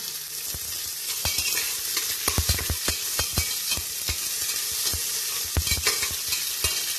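Potato and onion fried and stirred in a pan, a continuous close sizzle punctuated by a quick irregular series of sharp spatula scrapes and knocks against the metal.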